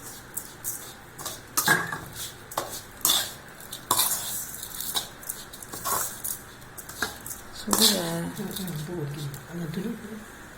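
Kolukattai dough stirred with syrup in a pot, heard as close irregular scraping and clanking of a spoon against metal with soft squelches, mixed with people talking and a cough.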